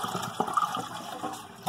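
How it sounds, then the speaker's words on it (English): A household toilet flushing with its water supply shut off, a short gush and swirl of draining water with a couple of louder surges, close by and alone. "So I'm going to go ahead and flush this, get a lot of this out of there."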